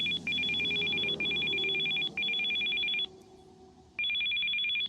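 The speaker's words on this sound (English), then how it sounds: "Another phone call." Repeated electronic ringing of a telephone in the video game Still Life 2, four long bursts with short gaps between them, loud and close over a low ambient hum, with no one speaking.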